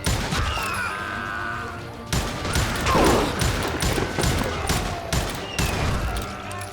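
Gunfire in the Western shooter video game Call of Juarez Gunslinger: a dense run of sharp, repeated shots and impacts over a busy game soundscape, loud and continuous for several seconds.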